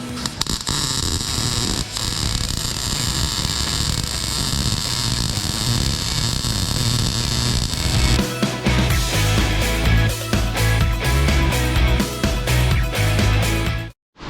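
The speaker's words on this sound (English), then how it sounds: "let's see if we can get in here to weld" An arc welder buzzes steadily on a pipe of a homemade sauna wood stove, a loud, continuous crackling hum that shifts to a rougher, sputtering tone partway through before cutting off.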